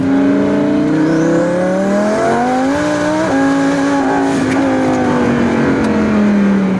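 A 1,500 whp rear-wheel-drive twin-turbo car accelerates at full throttle, engine droning loud and steady with rising pitch through gear changes, heard close from inside with no talk.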